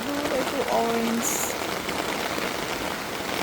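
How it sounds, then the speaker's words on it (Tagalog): Heavy rain pouring onto a rooftop garden with potted plants and fruiting trees, a constant hiss of falling water with brief chirps and a voice speaking over it early on. "Ito ang lakas ng ulan, oh."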